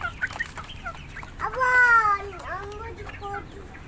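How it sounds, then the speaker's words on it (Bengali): Tiger breed chickens cluck and call close by in a yard, with a louder drawn-out squawk in the middle among scattered short clucks, while a voice is faintly present. "হ্যাঁ, এগুলো টাইগার মুরগি।"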